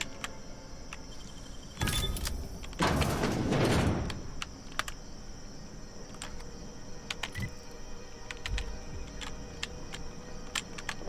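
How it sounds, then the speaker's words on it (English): A mechanical door in The Outer Worlds slides open with a loud whooshing, grinding burst lasting a couple of seconds, followed by faint clicks and ticks in a quiet room. "this is a door"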